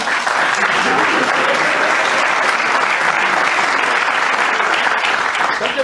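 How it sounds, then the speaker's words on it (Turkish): Dense audience applause at a theatre stage show, loud and steady with no break across the whole stretch, sustained and even from start to finish. "burada propaganda mahiyetli bir alkış şart zaten"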